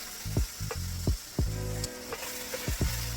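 Okra fries in a pot with a steady close sizzle, broken by a series of sharp stirring scrapes and knocks that come in an uneven rhythm.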